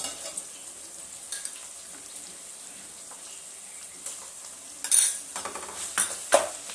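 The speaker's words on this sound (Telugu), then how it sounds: "ఇప్పుడు మనం ఇందులో అల్లం ఎల్లిగడ్డ పేస్ట్ వేద్దాం" Ginger garlic paste frying in oil with onions and curry leaves for a Telangana-style gongura boti curry, giving a soft steady sizzle with a few louder clatters and stirring scrapes near the end, and no talking.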